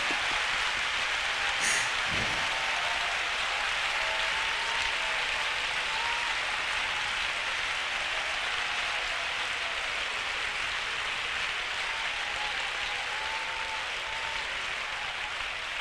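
Church congregation applauding during a sermon, a long, even, rain-like roar of many hands clapping at a distance, unbroken throughout, with no voices.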